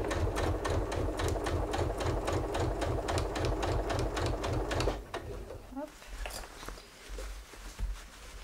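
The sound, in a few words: sewing machine with walking foot sewing fabric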